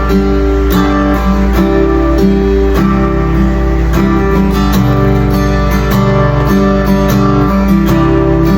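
Loud recorded music plays through a small DandD Django Jr Tokyo Edition guitar amplifier, with steady rhythmic notes and chords over a sustained low bass, continuous for several seconds without voices.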